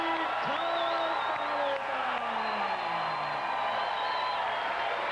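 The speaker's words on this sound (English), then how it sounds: "This crowd is going to erupt" A big crowd at a 1997 pro beach volleyball final in Dallas roars and whoops in a steady, loud wall of cheering, with a commentator's voice running over it.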